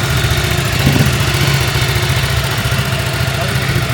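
A motorcycle's 90-degree L-twin engine starts and runs at a steady idle, its low rumble pulsing evenly and close by, with a brief surge near the start.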